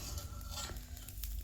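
Fenugreek seeds and spices for North Karnataka masala powder roast in a pan, stirred with soft, faint scraping and light sizzling patter, close up and without voices.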